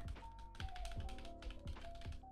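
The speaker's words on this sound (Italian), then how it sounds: "si sente veramente che i tasti non appena li clicchi proprio vanno giù" Crisp keyboard key presses click and tap in an irregular rhythm, close up and fairly quiet, with no talking.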